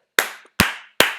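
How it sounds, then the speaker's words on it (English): Hand clapping, three sharp, close, separate claps spaced evenly about 0.4 seconds apart, each decaying quickly into silence. "a round of applause, mate."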